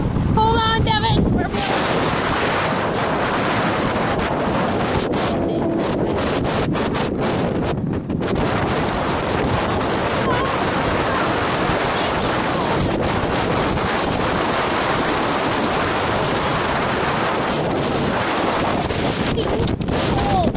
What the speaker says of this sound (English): cold and too windy.